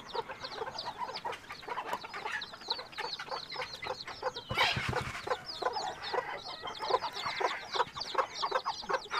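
A mother hen clucks steadily among her fourteen young chicks, their busy peeping and clucking filling the close, continuous farmyard scene, with a brief louder rustle midway.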